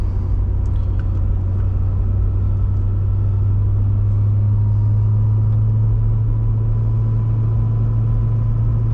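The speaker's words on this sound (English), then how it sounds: "I want to give you guys a taste of the acceleration in the car." A supercharged 2009 Chevrolet Corvette Z06 engine drones in a steady, heavy low rumble from inside the car, holding evenly without a clear rise in pitch.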